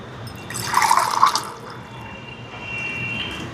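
Water pours into a pot of rice for egg biryani, a splashing fill that swells for about a second and then eases into a quieter trickle, with no voices.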